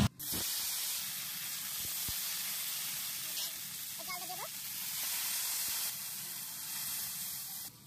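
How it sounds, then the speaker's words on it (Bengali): Diced potatoes and chopped gourd stems fry in a pan with a loud, hissing sizzle that holds steady, with a brief clatter near the start and faint sounds in the middle. "পেপলটির ডুগা কুটে রেখেছিলাম, এবার আলুর সাথে ভেজে নেব"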